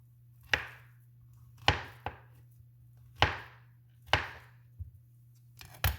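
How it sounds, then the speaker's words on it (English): A knife slicing plantains at an angle on a cutting board, five or six sharp, close chops at irregular intervals over a low steady hum, with no talking. "I basically cut them in an angle, easy to fry"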